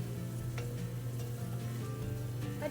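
Chana masala mixture sizzles and crackles steadily in the pan as it cooks down over medium heat, a close, even frying hiss with no talking.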